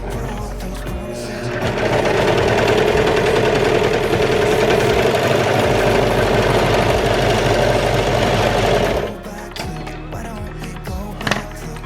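A Brother 1034DX serger stitches a baby romper, a loud close-up rapid mechanical whirring that runs steadily for about seven seconds and then stops, followed by light handling clicks.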